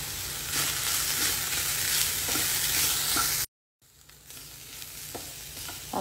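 Chicken and vegetables seasoned with black pepper and salt are stirred in a hot pan, giving steady sizzling and scraping. A brief silent gap interrupts it, then quieter sizzling and occasional stirring scrapes resume.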